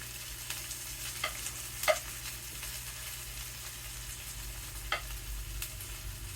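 Onion frying in a hot skillet for beef stroganoff gives a steady, close sizzle, broken by a few soft scrapes and knocks of stirring.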